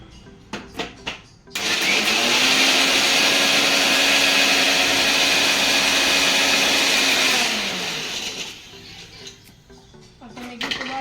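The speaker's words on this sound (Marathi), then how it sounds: "आता मी घेतो वाटून अद्रक, लसूण आणि कोथिंबीर." A mixer grinder runs loud and steady for about six seconds, grinding ginger, garlic and coriander, then winds down, with a few clicks and kitchen knocks before and after.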